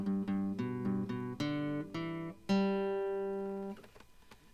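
The opening phrase of the jig Fosgail An Doras is played as a clear, bright melody on a plucked instrument, with a quick lilting run of distinct notes followed by a longer held note that fades out.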